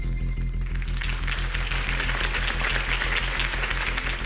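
A crowd in the video game Batman: The Telltale Series breaks into dense, sustained applause that swells after a moment, carried over a steady, thumping low rhythm.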